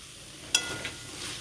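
Gourd pieces and a dozen green chillies dry-frying in a pan before any oil is added, with one sharp clink of a utensil and a soft, low sizzle continuing around it.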